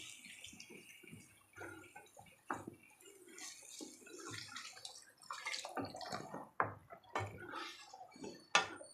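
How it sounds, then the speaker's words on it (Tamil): Water pours into a pan of stirred potato masala mixture in a home kitchen, making quiet, uneven splashing and gurgling that swells and fades in bursts, with a sharper splash near the end. "இப்போ இதுக்கு தேவையான அளவுக்கு நம்ம தண்ணி"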